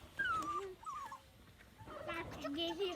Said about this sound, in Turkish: Küçük köpek.